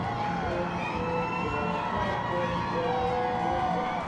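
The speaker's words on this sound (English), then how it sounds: "The crowd goes wild." Crowd of families at an Army graduation family day at Fort Jackson, South Carolina, cheering, whooping and shouting loudly and continuously, with high whistles and excited cries rising above the mass of voices.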